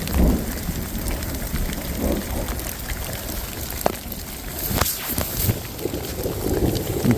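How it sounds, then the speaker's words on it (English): Hail falling outdoors on a small green tarp during an elk hunt in the Colorado backcountry, a steady dense patter with scattered sharper hits close overhead, continuous and alone without voices. "hailing outside."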